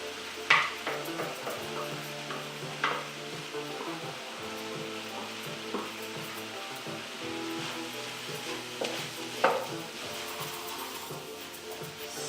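Processed cauliflower sizzles softly in a frying pan while a utensil stirs and scrapes it, with occasional sharp clicks against the pan; close and quiet, with no talk.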